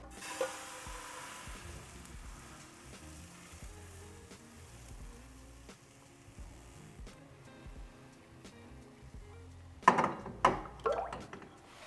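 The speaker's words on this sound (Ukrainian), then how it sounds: "І дуже швидко це все наливаю на сковорідку." A soft, steady sizzle of pancake batter frying in a pan runs throughout, with a louder burst of clattering and hissing near the end.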